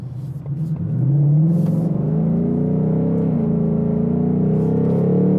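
A 2021 Ford Mustang Mach 1 V8 accelerates hard, with a loud, close engine note that climbs in pitch and steps down smoothly as the transmission shifts gears. The roar holds steady throughout, with no talking.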